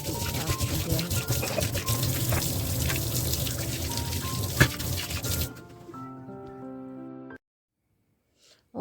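Tap water runs into a kitchen sink while dishes are washed, a steady close splashing and trickling flow with occasional clinks, then it stops and a few faint tones follow before silence.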